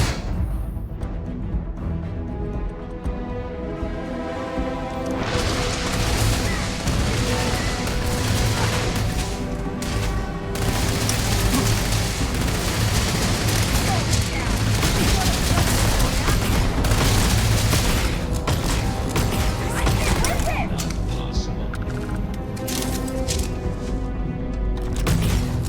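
Dense, continuous gunfire and booming impacts fill a firefight in the space game Starfield, rapid shots layered over loud music and explosions with no letup.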